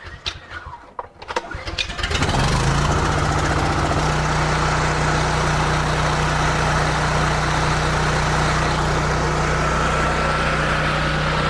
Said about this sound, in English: we'll go ahead and start our generator. Should only take 1 or 2 pulls